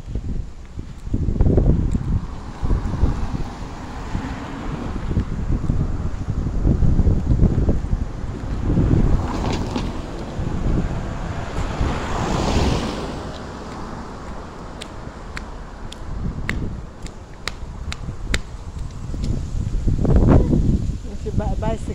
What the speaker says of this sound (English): Yeah, it's a harbor.